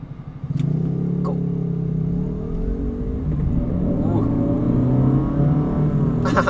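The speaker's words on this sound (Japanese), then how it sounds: "じゃあ加速いってみますね。" A Honda Fit 3 pulls away from a traffic light, its engine note rising steadily from a low rumble as it accelerates, heard from inside the cabin with no talk.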